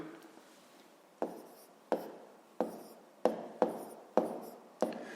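Pen on paper writing numbers during a fifth-grade maths division exercise, a series of about seven short taps and scratches spaced roughly half a second apart, close and fairly quiet.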